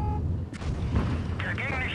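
Tank cannons firing in the WOT Blitz video game, a few booming shots with short rumbling tails mixed with game effects, while a voice talks over them.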